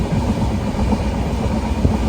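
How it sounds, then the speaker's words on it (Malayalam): Steady rumble and rattle of the Millennium Superfast Express running on rails from Ernakulam toward Nizamuddin, heard from inside the moving coach, with continuous wheel noise and faint clatter. "ട്രെയിൻ നമ്പർ 126 എറണാകുളത്ത് നിന്നും നിസാമുദ്ദീൻ വരെ പോകുന്ന മില്ലേനിയം സൂപ്പർഫാസ്റ്റ് എക്സ്പ്രസ്"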